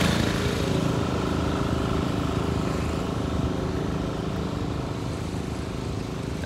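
An old U302 Super LP tractor with a narrow front end and banana weights runs at a steady idle, its continuous rough engine drone close and loud for several seconds with no voices over it.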